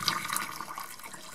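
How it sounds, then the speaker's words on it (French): Hot vinegar pours through a small funnel into a jar, a close, steady trickling and splashing of liquid that lasts about a second and a half, with no talk. "je vais verser à l'aide de mon petit entonnoir"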